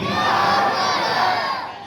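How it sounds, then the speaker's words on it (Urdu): A large crowd at an outdoor religious gathering in a Pakistani village shouts the response to a Takbir chant in one loud, sustained roar of many voices that fades slightly at the end. "ہر بندہ سینے کا زور لگا کے نعرے کا جواب دے"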